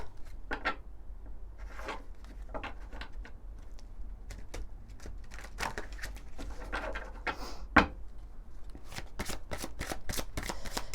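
Oracle cards shuffled by hand in a quiet room, a steady run of soft papery riffles and slaps that grows denser and louder toward the end, with one sharper tap midway and no talking.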